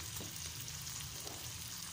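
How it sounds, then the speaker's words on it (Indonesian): Chicken feet stir-frying in a hot pan for a spicy Indonesian dish, a steady loud sizzle and crackle of oil with faint scraping stirs, no voices. "Ditumis dulu teman-teman"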